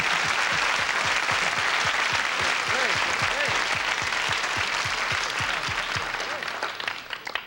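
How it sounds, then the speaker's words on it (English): Studio audience at a 1973 television music show applauds steadily and loudly for several seconds, a dense wash of clapping that thins slightly toward the end. "we'd like for you to give yourselves a round of applause"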